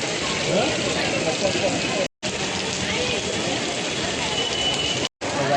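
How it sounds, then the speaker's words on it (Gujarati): Rain falls steadily in a dense, even patter, broken by two brief dropouts, with voices faintly mixed in. "હજી એવો વરસાદ ચાલુ જ છે"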